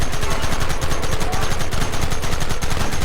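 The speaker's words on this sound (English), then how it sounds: "Open fire!" Dense, nonstop gunfire in the Red Dead Redemption game, rapid shots blurring into a loud, continuous volley with no pauses.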